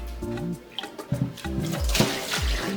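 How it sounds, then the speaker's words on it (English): Rinse water from fufu ingredients poured out of a bowl, a short close splash and gurgle of liquid lasting a couple of seconds, with no one talking. "going to throw the water out"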